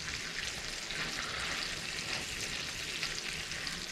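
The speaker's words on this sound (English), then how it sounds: "Just sort of cooking off the bacon a little bit." Bacon and liver fry together in a pan with a steady, even crackling sizzle, faint but continuous, heard alone without any talk.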